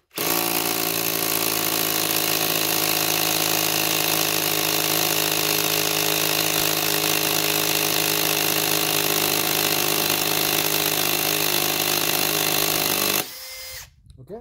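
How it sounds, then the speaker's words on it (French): Cordless Bosch GSR 12V-35 FC drill fitted with an SDS chuck hammer-drilling into a wall for a plug, a loud steady rattling whine running unbroken for about thirteen seconds before cutting off abruptly. "Donc là on va percer, c'est parti."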